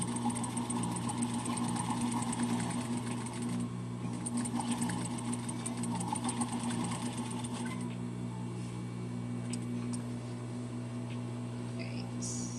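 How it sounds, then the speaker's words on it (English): A domestic sewing machine runs top stitching on a Tabitha docker hat, its steady motor hum and rapid needle chatter continuing throughout, loud and close, with a short change in pace partway and a few light clicks near the end. "Finishing this top stitching."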